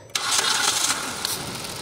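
A car engine cranks and catches in a single start attempt, a loud broadband whirr rising abruptly and running steadily for nearly two seconds, close up with no talking.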